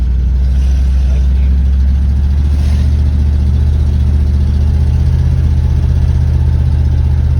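A 1960s Ford Thunderbird with drum brakes drives along back roads, its engine a loud, steady low rumble from inside the car with a brief rise partway through; no talking.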